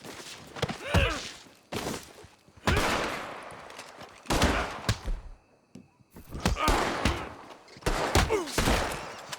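Bursts of gunfire in Red Dead Redemption 2, loud separate volleys of shots and thuds with short gaps between them, mixed with game noise.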